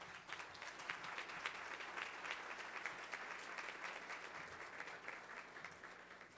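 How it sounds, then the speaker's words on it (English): A seated audience claps steadily for a sponsor, a dense wash of hand claps holding even and fairly loud for several seconds without letting up. "Please thank our sponsor, Crab Brown and James, by applause."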